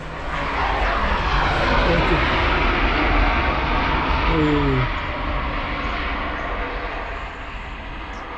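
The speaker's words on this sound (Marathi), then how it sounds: "विमान चाललंय. मित्रांनो विमान विमान विमान." An airplane roars overhead, a loud sustained broadband rush that slowly fades, while a person speaks briefly underneath.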